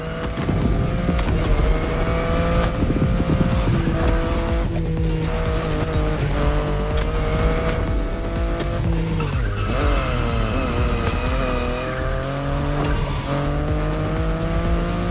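A BMW i8 in The Crew Motorfest racing game drives hard, its loud engine drone running continuously while tires squeal and skid through repeated slides, with no talking.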